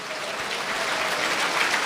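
Congregation at a church service applauding loudly, a continuous dense wash of many hands clapping close by, with no speech over it.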